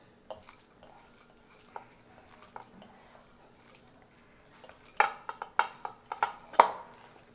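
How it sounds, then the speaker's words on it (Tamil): Prawn vada batter being mixed by hand with salt in a pan, soft squelching and stirring with a few sharper clinks of utensil against the vessel toward the end, faint and close. "இப்படி நல்லா இப்படி விரவி வச்சுக்கோங்க."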